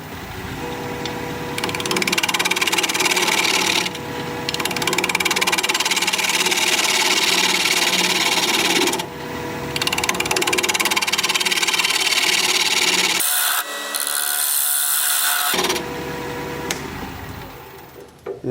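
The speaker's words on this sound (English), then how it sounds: "We're going to be turning at 1100 RPM, 5/8 inch bowl gouge, mask," A 5/8 inch bowl gouge cuts wood on a lathe turning at 1100 RPM, giving a loud, continuous rushing scrape in long passes with short pauses between cuts, and the tool briefly pulls away near the end.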